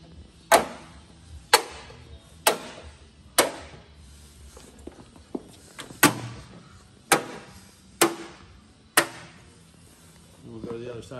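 Knocks on the all-metal body panels of a car, down low along the rust-prone areas: about eight sharp, loud raps spaced roughly a second apart, each ringing briefly, with a few softer taps between.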